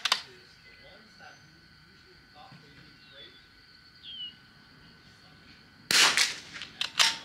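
A single sharp crack from a Vudoo rifle firing Eley Match ammunition bursts out near the end after a quiet stretch, loud and close, with a short ringing tail and outdoor background.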